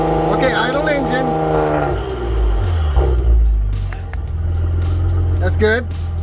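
A car engine settles from a rev back down to a low idle during charging system checks on a car with a no-start problem, rumbling close by beneath people talking.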